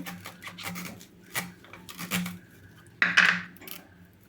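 A knife chopping banana stem into very small pieces on a board, giving a run of close, quick crisp cuts followed by a louder rasping slice near the end, with no talking.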